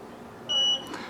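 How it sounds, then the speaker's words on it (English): One short electronic beep sounds as a RENPHO exercise bike is plugged in and powers on, a clear high tone lasting about a quarter second over faint room noise. "Oh yeah, so now it's on. Made a little beep noise."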